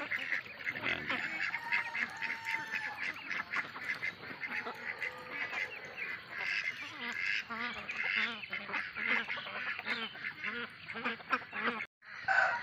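Nakhon Pathom ducks on an egg-laying duck farm quack and honk repeatedly in a noisy, overlapping flock, close by and fairly loud, with a brief pause near the end.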